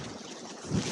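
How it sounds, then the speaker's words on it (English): Wind gusting across an open meadow in late March, a steady broadband rush with microphone buffeting that swells louder toward the end; no voices. "The wind has really picked up"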